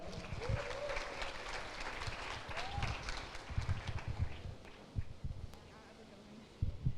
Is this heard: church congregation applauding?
yes